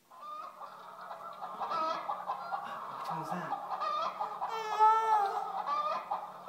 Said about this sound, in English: That's the chicken.